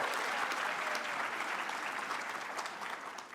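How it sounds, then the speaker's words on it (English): Sustained applause with scattered cheers from a ceremony audience at a university White Coat Ceremony, steady and dense throughout, tapering slightly toward the end. "be generous with the cheers and applause"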